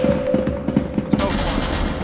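Automatic gunfire in SCP Secret Lab as players shoot at SCP-096, a rapid rattling volley of shots under overlapping voices, close and loud, followed by a harsher noisy burst toward the end.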